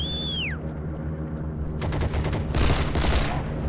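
Gunfire in the World War II shooter game Heroes and Generals: a dense burst of rapid automatic shots and fusillade fire on a rumbling battlefield, following a brief whistling sweep, loud and sustained toward the end.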